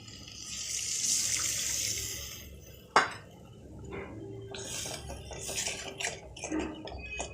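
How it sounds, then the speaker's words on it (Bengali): Saved egg-poaching water is poured into a curry pan, giving a running, splashing wash of water with a single sharp metallic clank partway through and light kitchen clatter near the end. "আমি যে জলটা পোচ করেছিলাম সেই জলটা রেখে দিয়েছিলাম"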